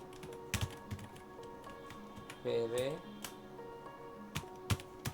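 Computer keyboard typing as a file name is entered, scattered key clicks spread across the clip with a brief burst of voice in the middle; close and fairly quiet.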